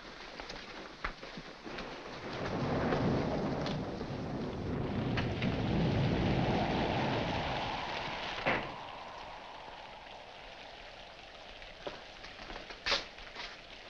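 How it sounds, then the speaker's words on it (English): Steady rainfall with a long, low rumble of thunder swelling in the middle, plus scattered sharp drips and taps, no talking. "In this rain? Yes, in this rain."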